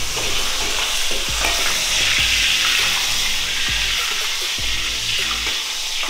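Nasi goreng sizzling in a hot pan while being stirred, with steady close frying hiss broken by repeated scraping knocks of the utensil against the pan.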